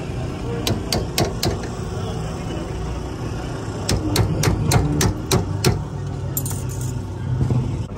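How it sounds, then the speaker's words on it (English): Hammer blows on a broken drift car control arm with a snapped lower arm, two clusters of sharp metallic strikes in quick succession with an engine idling nearby and people talking. "Just hammer it down."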